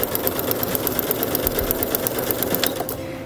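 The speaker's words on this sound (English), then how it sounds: "And I'm just gonna sew down" Sewing machine stitching down fabric for paper piecing, a loud, close, rapid mechanical chatter running steadily before it slows at the end, with no talking.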